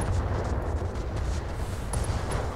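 A mech's arm blows apart in the Battletech video game, a heavy rumbling blast with dense low booms and crackling debris, loud and continuous, with a couple of short high electronic beeps near the end.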